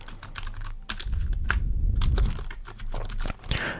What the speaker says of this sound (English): I also like that the different keys have different sounds as well.